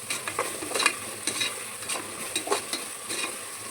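Ginger garlic paste sizzling in a pan while being stirred, soft scraping strokes over a steady frying hiss, close and moderately quiet.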